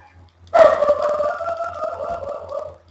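A dog barks once, loud and close, and the bark trails off into a drawn-out whine or yowl lasting a couple of seconds, over faint background hum.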